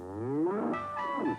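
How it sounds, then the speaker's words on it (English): Cows moo in the video game Oregon Trail 2, giving one drawn-out, close low moo that rises and bends in pitch, alone and clear. "Let's talk to these mighty fine cows here, too."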